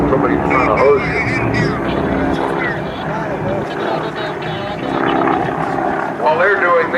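Propeller aircraft of a skywriting team fly in formation at an airshow, a droning engine rumble running underneath continuous commentary from a man.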